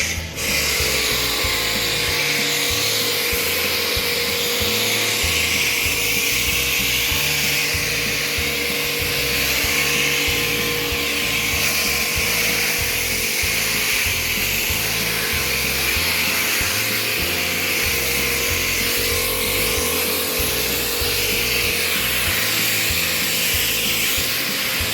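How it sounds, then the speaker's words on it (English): A pressure washer gun sprays the soaked carpets from a 1996 Corvette C4 with an adjustable nozzle, giving a loud, steady mechanical whine and rushing spray that runs without a break for the whole stretch, with no talk over it. "It's the gurney gun, and adjust the nozzle to your liking and do this."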